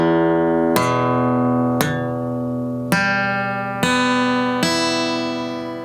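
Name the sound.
guitar chord arpeggiated note by note from the 6th string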